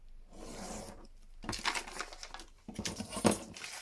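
Journal paper being trimmed with a sharp blade, heard as a few soft, close scraping and tearing strokes with brief rustles, quiet and without speech.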